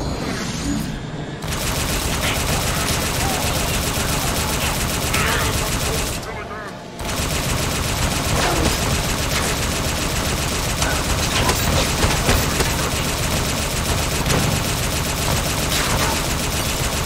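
Heavy sustained gunfire in Halo 5: Guardians aimed at a Covenant gravitational core, dense automatic bursts and blasts running nearly continuously with one brief pause, loud and close, with voices in the mix.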